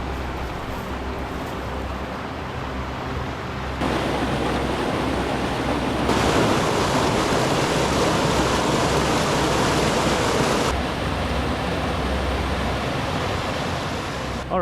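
Waterfall cascades along the Cherry Run trail at Ricketts Glen roar as a steady broadband rush of falling water, close and loud, with the level stepping up partway through and no talk.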